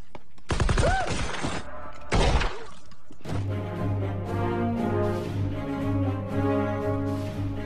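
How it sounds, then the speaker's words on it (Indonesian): Gunfire in a Deadpool (2016) film fight scene: two dense, loud bursts of shots, the second shorter, then a sustained tonal soundtrack with scattered impacts underneath. "Balik lagi ke Deadpool, sekarang dia yang cuma punya sisa 12 peluru pun menghabisi musuhnya satu persatu"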